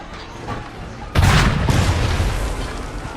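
A cannon shot in Assassin's Creed III Remastered lands as one loud, sudden boom about a second in, followed by a rumbling decay over ambient battle noise, with a voice talking nearby.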